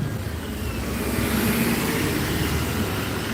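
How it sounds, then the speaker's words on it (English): A CrossCountry Class 170 Turbostar diesel unit departs a station, a continuous broad rumble and whine heard at moderate distance amid station ambience, steady without pause. "it's going to be almost time for the cross-country class 170 turbo star to depart"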